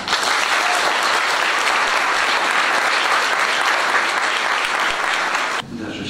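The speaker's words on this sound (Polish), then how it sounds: "Myślę, że wszyscy to wyrazimy" Loud, dense audience applause fills the space at a scout gathering, steady and sustained before cutting off abruptly near the end, leaving quieter room sound.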